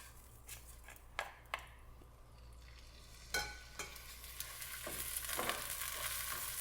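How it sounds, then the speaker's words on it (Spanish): Drained rice fries in two to three spoonfuls of olive oil in a very hot pan, a soft steady sizzle with occasional clicks and light stirring scrapes, fairly quiet. "En un sartén bien caliente vamos a agregar aproximadamente de 2 a 3 cucharadas de aceite de oliva. Y vamos a agregar ya nuestro arroz bien escurrido."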